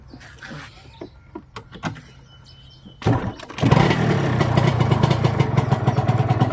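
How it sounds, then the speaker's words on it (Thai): A 1997 TZR150 two-stroke motorcycle, converted to a duck-tail rear, cranks over after a few seconds of quiet with faint birdsong, then catches and settles into a loud, steady, crackling run close by. "เพิ่งจะสตาร์ทรอบแรกครับ ติดง่ายครับผม"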